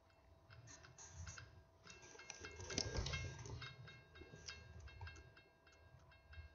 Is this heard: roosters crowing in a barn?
no